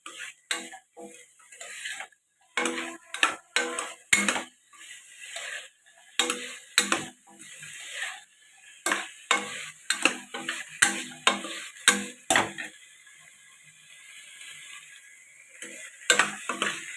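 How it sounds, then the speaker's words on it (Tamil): Tomatoes and vegetables being sautéed, heard as repeated sharp clinks and scrapes of a spoon stirring in the pan, coming in irregular bursts with quiet gaps between. "தக்காளியை போட்டு நல்லா வதக்கணும்."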